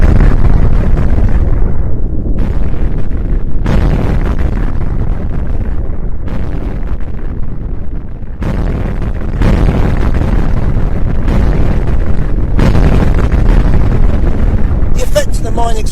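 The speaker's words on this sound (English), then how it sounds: "600 tons of explosive blew up under the German lines" Loud, continuous roaring rumble of massive mine explosions, 600 tons of explosive under German lines at Passchendaele, with repeated surges of blast noise over about sixteen seconds, heavy and overwhelming.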